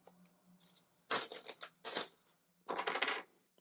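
Three dice rolled for the board game John Company, a few sharp clattering bursts of dice tumbling and rattling on a hard surface, close and clear, with silence between.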